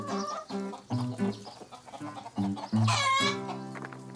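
Chickens cluck in their enclosure, a close run of short, repeated calls in uneven bursts with one louder, drawn-out squawk near the end.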